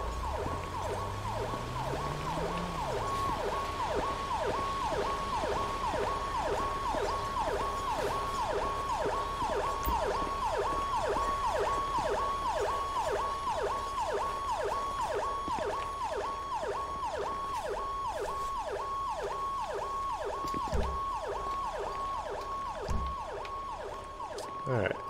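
In GTA 5, an ambulance pulls away from a Paleto Bay fire scene with its siren cycling in a fast, steady electronic pattern for a long stretch, an engine swell at the start and a few thumps near the end.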